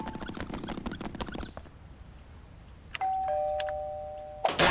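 A cartoon doorbell chimes twice near the end, a clear ringing tone, following a stretch of quick pattering sounds and a short quiet gap.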